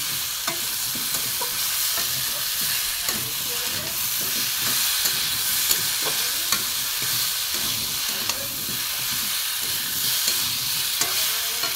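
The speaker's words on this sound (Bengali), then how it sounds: "এবার একটু আমি ভালো করে কষিয়ে নেব।" Spices sauté in a pan for a vegetarian pumpkin and drumstick curry, making a constant, fairly loud sizzle and hiss beneath steady scraping strokes of stirring, with no pauses.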